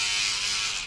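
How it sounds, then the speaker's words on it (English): An electric toothbrush gives a steady, close, bright buzz for about a second without pause, fading slightly at the end, with no talking over it. "Do you love your new toothbrush?"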